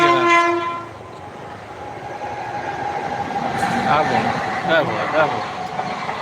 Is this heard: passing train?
yes